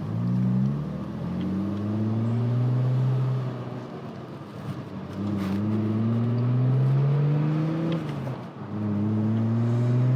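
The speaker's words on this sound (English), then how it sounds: "A nice little grumble, a nice deep but not extremely deep tone to it." A BMW E36 M3 engine rumbles in a deep, steady drone while driving, rising and falling through revs in several sweeps, loud and close throughout.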